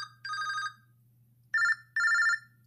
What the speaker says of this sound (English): Let's get into phone ringtones.